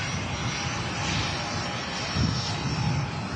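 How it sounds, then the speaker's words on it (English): A Virgin Atlantic Airbus A330 jet departing Manchester Airport, its engines giving a loud, steady, broadband roar with deep rumble that holds throughout, no voices present. "Catches Virgin 330 departing first."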